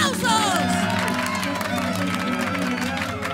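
A studio audience on a Peruvian TV talent show cheers and applauds loudly and continuously, a dense wash of crowd noise with voices rising through it.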